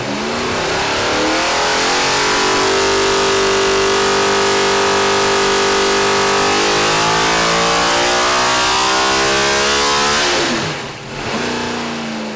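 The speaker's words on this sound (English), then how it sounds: "I love listening to a high RPM V8 sing" A 955-horsepower NASCAR V8 built for the street, with dual carburetors, revs on a dyno up toward 8,800 RPM, a loud sustained wail with rising, shifting harmonics that drops off briefly near the end before picking back up.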